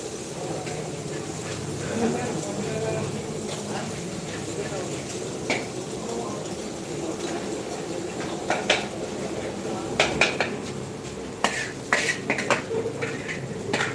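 Pans and cutlery clatter and scrape while egg tarka is cooked in a hotel kitchen, with faint frying underneath and a steady busy background; sharp metallic knocks grow more frequent toward the end.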